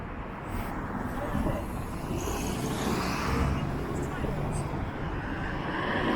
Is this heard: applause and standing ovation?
no